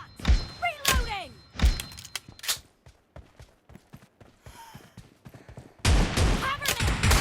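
Shotgun reloading and firing sounds in a team-based shooter video game, with rapid thunks and blasts over music and game voice callouts, busy and loud throughout.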